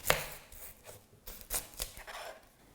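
A knife chops onion on a board in a handful of uneven, soft thuds and scrapes, close by and quiet, with no talking.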